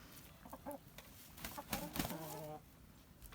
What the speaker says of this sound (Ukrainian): Оця до нас дубкується молода курочка, ось там далі молоденька курочка.